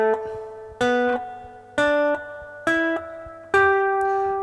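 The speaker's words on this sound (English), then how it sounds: "that's the sound of a major pentatonic up the top string" A slide guitar plays a major pentatonic phrase up the top string, five clear plucked notes with gliding slides between pitches, each ringing and decaying, close and alone without speech.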